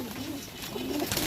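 Pigeons at a pigeon sale coo in a steady low throaty murmur close by, the soft warbling calls overlapping continuously through the short stretch with no talk.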